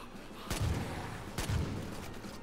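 Two heavy gunshots in the Far Cry 5 zombie game mode, about a second apart, each a sharp boom with a booming low tail over a steady background hum.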